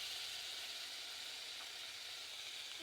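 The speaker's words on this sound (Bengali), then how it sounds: "রসুন বাটা দিয়ে ভালোভাবে ভেজে নেবো।" Garlic paste fries in a pan, giving a faint, even sizzling hiss that continues without break from start to end.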